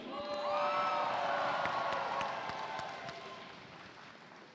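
A large indoor crowd cheers and whoops at a FIRST Tech Challenge robotics state championship finals in Oregon, a dense roar that swells early and slowly fades, with scattered sharp claps.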